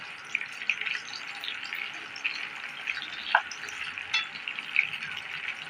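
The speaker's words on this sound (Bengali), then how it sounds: "এবার তেলে পেঁয়াজটা আমি হালকা করে নেড়ে নিলাম।" Onion stirred in hot oil in a pan for a coriander chicken curry, giving a moderate, steady sizzle with scattered spatula scrapes and clicks nearby, and no talking.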